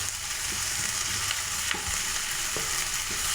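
Small onions and green chillies frying with cinnamon and cloves in a pan, a steady close sizzle broken by a few spoon scrapes and taps, with no talk.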